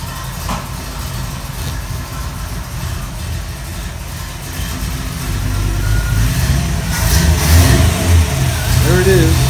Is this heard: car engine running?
yes